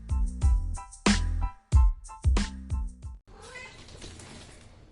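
A domestic cat meows again and again in short, loud, close calls with brief gaps between them, ending in a softer, noisier stretch with no call.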